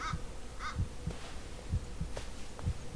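A heartbeat from the Blair Witch video game thumps in a steady low double-beat pattern, repeating several times over a few seconds, close and moderately loud, with faint goose-like honks or cries from the game in the background.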